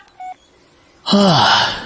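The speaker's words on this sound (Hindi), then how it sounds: "वॉइस मैसेज नायरा का फाइनली आ ही गया" A phone gives a brief notification tone for an incoming voice message. A short electronic beep is followed by a pause, then a voice starts speaking loudly.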